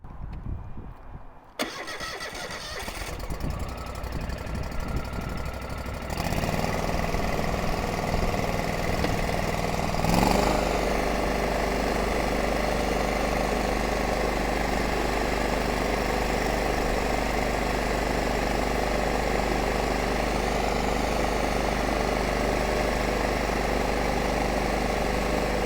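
The 26.5-horsepower fuel-injected Kohler engine on a Toro Grandstand mower cranks briefly, catches and fires up, then settles into a loud, steady idle and revs higher around the middle before running evenly to the end.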